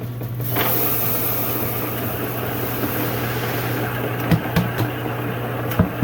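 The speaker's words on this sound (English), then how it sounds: "So I'm going to mill this up on my Monster Mill 3mm Pro." A Monster Mill 3mm Pro grain mill crushes malt for a session saison home brew. It makes a steady, close grinding whir with a low hum and a few sharp clicks near the end, and no one speaks.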